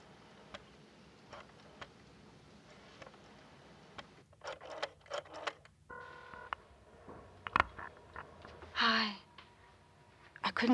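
A telephone being dialed indoors in a 1980s drama scene: quiet ticks and short electronic tones in irregular bursts, faint against a low room background, with a sigh.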